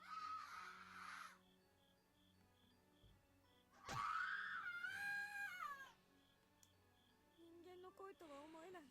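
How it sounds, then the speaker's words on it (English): A boy screams in terror in the horror game Corpse Party: loud, piercing, wavering shrieks in several bursts over quiet, tense ambient tones, rising to a strained peak in the middle. "I've never heard screaming like this before."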